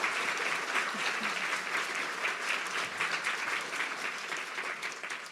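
An audience at a library talk on Minnesota cookie traditions claps steadily and densely throughout, a full even round of applause heard at a moderate distance with no one speaking.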